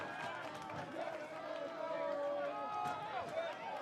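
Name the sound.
baseball crowd at Walker Stadium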